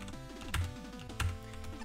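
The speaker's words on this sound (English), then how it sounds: "time for the old keyboard and mouse here" Keys clatter in a dense, steady run of clicks on a computer keyboard, with two louder mouse or key clunks standing out, close and alone with no talk.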